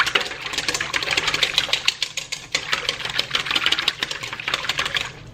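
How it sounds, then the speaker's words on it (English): Oil whisked briskly in a bowl as baking wet ingredients are mixed, a fast continuous rattling clatter of the whisk against the bowl, close and steady throughout. "So I'm gonna whisk up the oil."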